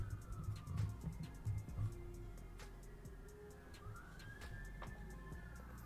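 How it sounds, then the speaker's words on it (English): Sirens wail faintly in the distance outdoors, rising and falling over a steady low rumble of traffic, with a few scattered bird calls. "Bunch of sirens outside my house."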